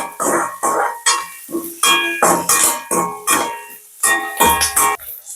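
Curry leaves sautéing in a pan for a Point Pedro-style small roti and kattai sambal, with repeated bursts of crackling, spattering sizzle close up, separated by short quieter gaps.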